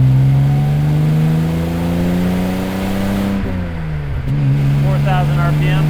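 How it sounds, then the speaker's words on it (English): A 1970 Jaguar XKE E-Type Roadster engine hums close and loud as the car accelerates with a slowly rising pitch, then dips and recovers through a gear shift, while speech runs throughout. "I'll try and get on and off the throttle and shift as much as possible."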